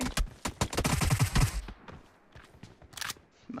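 Rapid bursts of gunfire from an online shooter game, a dense volley in the first second and a half, then sparser scattered shots and clatter until a sharp burst near the end.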